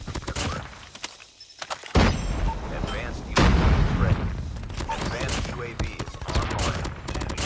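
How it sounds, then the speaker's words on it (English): Rapid bursts of SMG fire from the Switchblade in a Season 5 shooter match crackle loud and near, with dense rattling volleys and booming impacts over ongoing game noise; a voice talks over parts of it. "This gun does so much damage for an SMG."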